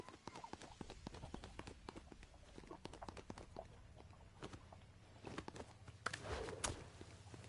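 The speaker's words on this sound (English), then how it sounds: "Footsteps in there." Footsteps crunch and patter steadily in a Fortnite match, a continuous run of quick, fairly faint steps with some louder scuffs toward the end, no talking over them.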